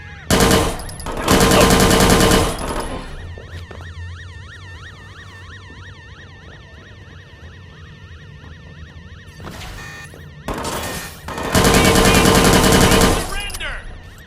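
Gunfire in the video game Watch Dogs 2, two long loud bursts of rapid automatic fire separated by a stretch of wailing siren-like tones and game effects, with no talk.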